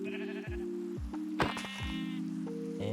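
Sheep in the Minecraft game Create: Milkyway modpack bleat several times in quick succession, short wavering calls close by, overlapping one another, with no talk.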